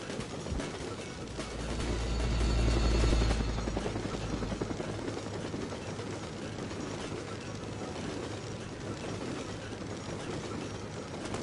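A helicopter in the video game Syphon Filter 2 drones with a dense, steady rotor roar that swells to a heavy low rumble early on, then holds at a constant level throughout.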